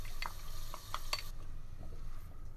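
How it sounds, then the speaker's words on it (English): Onion, garlic, carrots and celery sauté in a pan over medium heat, giving a soft steady sizzle with a few light clinks of a spoon stirring against the pan. No voices. "now we're just going to saute them on medium heat for 10 to 15 minutes until they become somewhat soft"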